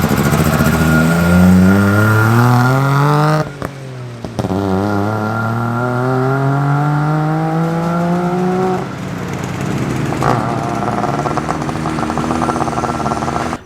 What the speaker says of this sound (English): these sold with a 3-cylinder 2-stroke engine, which makes a really awesome and unique sound